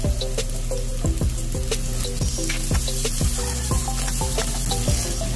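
Onions sizzle in hot oil in a pan beside fried chicken, a dense, steady crackle and spatter heard up close, with clinking from stirring and no voices.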